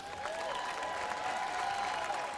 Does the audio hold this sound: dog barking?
no